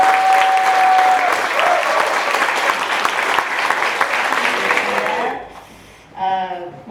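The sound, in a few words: audience applause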